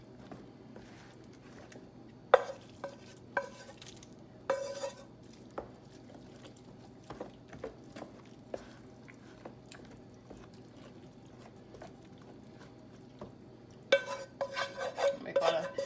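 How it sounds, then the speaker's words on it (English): A utensil stirs an egg mixture for a spinach cheddar quiche, giving scattered quiet scrapes and clinks against the dish, sparse at first and then a busier flurry near the end. "I'm doing some stirring right now because I do not want the eggs to start cooking"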